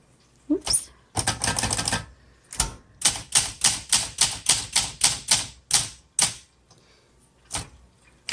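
A 1965 Olympia SM8 manual typewriter clatters up close in a loud run of keystrokes, first in a quick burst and then in an even string of separate clacks, with a few scattered strikes after a short pause.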